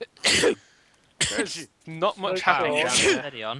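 A single sharp sneeze-like burst near the mic during a Trouble in Terrorist Town game session, followed by a second short burst, then people talking.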